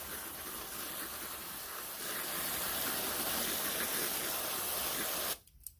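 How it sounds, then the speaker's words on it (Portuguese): Water is poured steadily into a basin to moisten sphagnum moss and perlite, making a continuous close hiss and gush that runs for several seconds and then stops abruptly. "coloque numa bacia para não fazer bagunça, e aí você vai umedecer."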